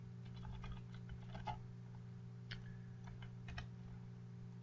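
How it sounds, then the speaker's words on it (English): Soft, scattered keystrokes tapping on a computer keyboard in quick bursts, faint against a steady electrical hum. "I'm typing over here"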